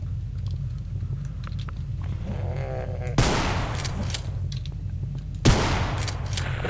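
Two loud shotgun blasts fired at a monster in the horror game Afraid of Monsters, separated by about two seconds, each with a sharp broadband crack and decaying tail, over a steady low droning game ambience.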